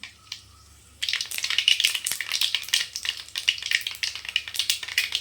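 Urad dal tipped into hot oil in a kadai, a sudden loud sizzle after a quiet second that keeps crackling and spitting with uneven bursts while it is stirred.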